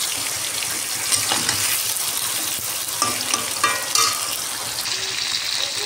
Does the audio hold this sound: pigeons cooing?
no